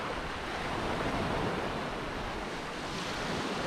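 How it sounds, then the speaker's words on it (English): Waves break and wash up on Bootle Beach on the Cumbrian coast, a steady, broad rush of surf with some wind, fairly close and with no speech. "I can hear the water."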